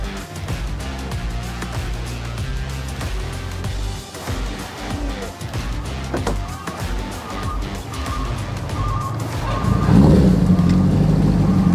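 Motorbikes pull away to begin a ride toward a campsite near Sinabung, a steady engine drone building and growing louder toward the end as they set off.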